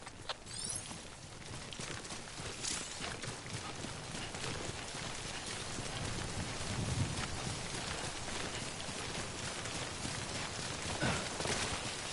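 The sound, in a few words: rain (timefall) in video game Death Stranding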